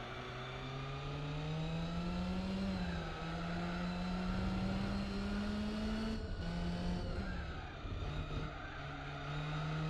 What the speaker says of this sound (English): Wow, this engine does sound like a mosquito.